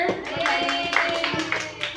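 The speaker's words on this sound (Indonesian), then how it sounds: "Tepuk tangan buat kita semuanya" Children applaud together at a school health-promotion session about the dangers of sugar, a scattered burst of clapping from a group lasting about two seconds, with some voices mixed in.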